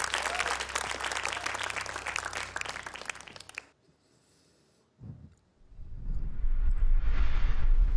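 A studio audience at a Qur'an recitation competition semifinal applauds a contestant from Garut, steady dense clapping that stops abruptly, followed by a brief silence and a swell of noise.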